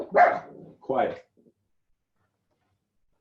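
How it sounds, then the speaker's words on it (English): A pet dog barks twice indoors, two short, sharp woofs close to the microphone, each about a second apart, followed by silence; a voice mutters briefly. "excuse my dog"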